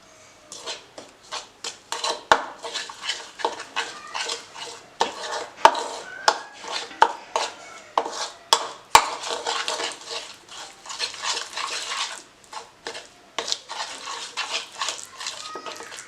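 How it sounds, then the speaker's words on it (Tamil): Masala for microwave-grilled pomfret fish is stirred in a bowl with a utensil, giving repeated scraping and tapping strokes in an irregular rhythm, close and fairly clear, with small clinks of the bowl between. "இப்போ இத நல்லா கலக்கி விட்டுறலாம்."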